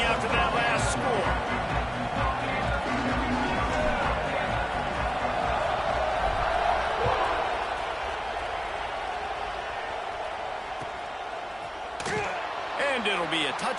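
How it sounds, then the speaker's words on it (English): A football stadium crowd keeps up a steady loud roar and buzz after a touchdown, with occasional sharp thuds and bangs mixed into the noise. "this crowd is buzzing after that last score"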